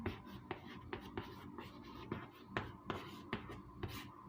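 Chalk or marker writing on a board during a Hindi biology class, a steady series of short scratchy strokes and taps close by, with quiet voice sounds underneath.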